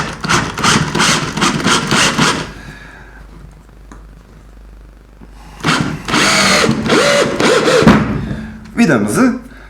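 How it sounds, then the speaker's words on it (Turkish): A cordless electric drill fitted with a two-step bit drives a screw under steady downward pressure, with two loud bursts of whirring motor separated by a quieter pause and a brief slowing at the end. "örnek veriyorum ikilik matkap ucu vidayı da sıkarken tatlı bir baskı dikey aşağıya doğru uyguluyoruz"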